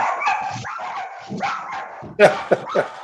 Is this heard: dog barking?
yes